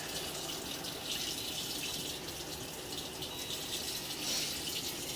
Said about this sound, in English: we got the water on now.